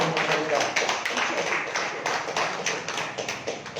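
A church congregation claps in praise, rhythmic sharp claps repeating steadily throughout while a preacher keeps speaking over them.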